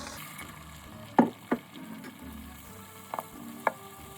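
Eggs drop into sunflower oil in a pan over high heat after green peppers have been stir-fried, giving a faint sizzle broken by a few sharp clicks and taps from stirring.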